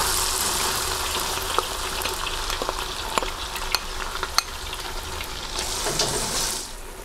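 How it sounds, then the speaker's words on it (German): Onions sweating in butter in a pot make a steady, close frying hiss, broken by several sharp spoon clicks against the pot and a brief louder swell near the end. "Jetzt die Zwiebeln anschwitzen"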